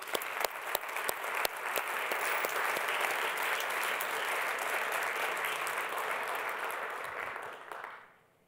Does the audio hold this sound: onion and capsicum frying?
no